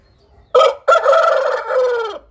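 A rooster crows once, loud and close, a short opening note followed by a long drawn-out call that trails off.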